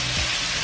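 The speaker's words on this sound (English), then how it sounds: "Oh wee, it's frying." Fried pot roast boil sizzles in a pan, a steady, even hiss of frying with no talk over it.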